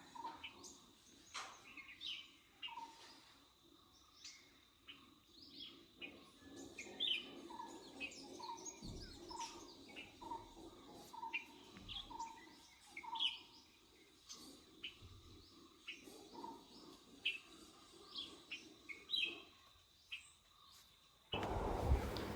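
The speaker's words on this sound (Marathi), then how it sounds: "पक्ष्यांचे आवाज आहे का?" Scattered bird chirps and tweets from several birds, fairly faint and distant, over a quiet outdoor background, with a louder rustle at the end.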